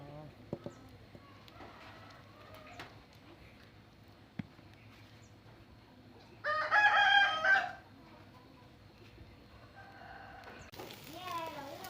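A rooster crows once, loud and clear midway, with faint talking and quiet background noise around it.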